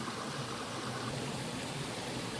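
A creek in a state park flows in a steady, dense rush of water, continuous and fairly close, with no voices.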